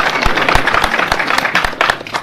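A loud burst of audience clapping at a political speech, distinct individual claps punctuating a dense wash of applause, close and lively.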